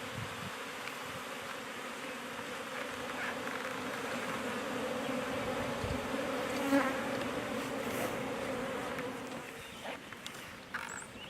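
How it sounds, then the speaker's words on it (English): A honeybee swarm buzzing outdoors, a dense steady drone of many wings holding throughout, with a few louder passes near the microphone and no voices. "So I'm going to see if I can catch a swarm real quick."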